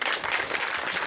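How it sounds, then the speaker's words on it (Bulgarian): Applause for a speaker at a basketball tournament event, a brief dense burst of clapping from the crowd heard alone and fairly distant. "Аплодисменти за Цветан Жеков и неговите хубави думи."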